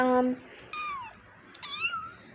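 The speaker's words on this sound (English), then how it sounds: "And I just picked up another kitty." A cat gives a few meows close by: a steady tonal cry at the start, then two rising, wavering calls spaced apart, fairly loud with little else around.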